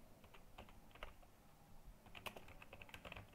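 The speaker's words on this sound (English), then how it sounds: "you can type any description you want" Fast typing on a computer keyboard, rapid irregular key clicks over a quiet room hum, nearby and fairly soft, with no voices.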